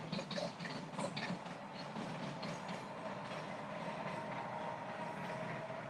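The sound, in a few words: train going by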